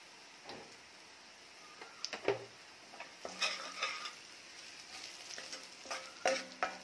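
Kolhapuri onion-garlic chutney masala with a pinch of turmeric sautéing in oil for drumstick curry: a soft sizzle under repeated scraping stirs and spoon clinks against the pan, quiet and close.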